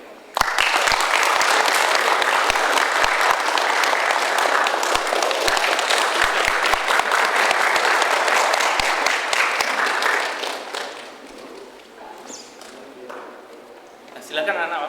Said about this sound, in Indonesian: Balik, tepuk tangan sekali lagi.